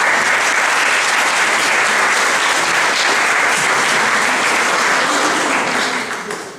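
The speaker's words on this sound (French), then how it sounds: "je vous propose de les remercier, de les applaudir parce que c'est un gros travail" Thick, steady applause fills a hall during the inaugural evening of a scientific environment conference, many hands clapping together at full strength before tapering slightly at the end.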